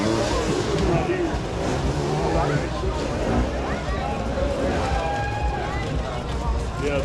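Race cars roar past during a Red Bull Tennessee Knockout race, a loud continuous wash of engine noise with pitch sweeps as vehicles go by, mixed with crowd babble and voices throughout.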